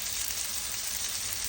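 Chicken breast sizzling steadily while frying in a pan, a dense, even hiss of hot oil heard close up and alone.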